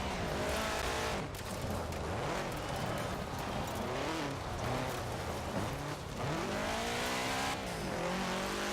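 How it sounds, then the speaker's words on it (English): A rally car engine revs hard and continuously near the mic, its pitch climbing and dipping through the gears with tire noise mixed in during a racing game run. "Really rev those RPMs."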